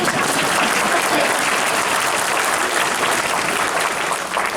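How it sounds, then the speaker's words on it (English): Audience applause at a school band concert, a dense steady wash of clapping that stays loud and even for the whole stretch with no voices over it. "You can give a round of applause for that."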